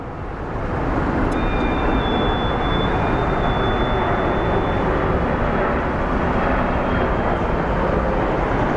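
A continuous broad roar of an A319 airliner at Phoenix Sky Harbor airport fills the scene, steady and fairly loud, with a thin whine riding above it.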